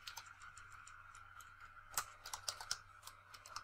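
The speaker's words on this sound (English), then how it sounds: "Simply type here auth." Fingers type on a computer keyboard in a quiet room, a close, fast run of light key clicks with a few sharper strokes near the end.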